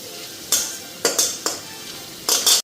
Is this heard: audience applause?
no